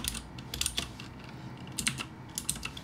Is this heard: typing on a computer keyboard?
yes